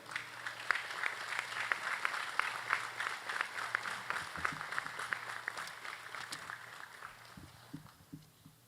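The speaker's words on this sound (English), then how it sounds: "We've all given a round of applause" A room gives a round of applause for graduating firefighters, a steady mass of fairly quiet clapping that thins out and fades toward the end.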